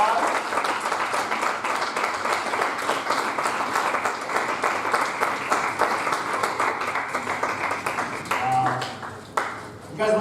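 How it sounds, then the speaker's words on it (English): Audience applause at a gathering congratulating people, a dense sustained clapping that runs for about eight seconds before thinning out, with voices mixed in. "Hey, let's give them congrats and applause."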